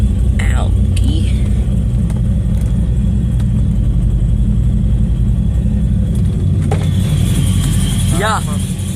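Loud car engine fitted with an Alky methanol injection kit, rumbling steadily up close throughout, with voices talking over it.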